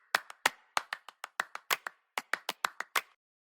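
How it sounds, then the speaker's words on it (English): Clap loop used as percussion in a K-pop beat, about a dozen crisp, dry claps in a steady grooving pattern, close and clean, stopping abruptly. "I'm then layering, as far as percussion goes, this clap loop"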